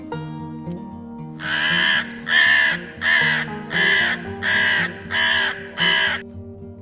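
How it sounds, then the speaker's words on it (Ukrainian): A crow caws seven times in a steady, evenly spaced run of harsh, loud, close calls, over a soft, low, sustained background hum. "Люди звуть мене ворона."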